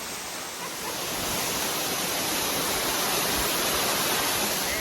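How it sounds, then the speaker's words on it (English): A waterfall seen from its base on a mountain hike in the Lone Peak Wilderness, Wasatch National Forest, Utah, pouring as a loud, steady, broadband roar of rushing water that holds unbroken from start to finish. "here we are at the base of the waterfall"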